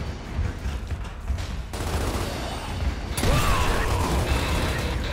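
Gunfire rattles in a co-op shooter video game campaign on hard difficulty, with dense continuous bursts and mechanical clanks layered over loud game noise throughout.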